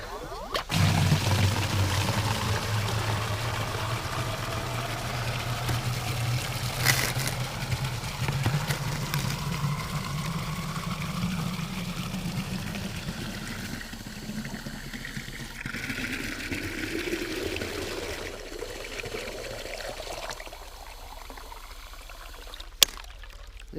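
Old water dumped and a chicken waterer refilled with fresh water, a steady pouring and splashing stream running for most of the stretch with a rising fill tone toward the end, close by, under low background noise.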